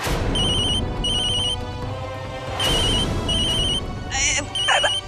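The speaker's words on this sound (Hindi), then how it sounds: "फोन उठाओ" A phone's ringtone chirps in repeated short bursts over noisy background sound and some overlapping voices, close and fairly loud.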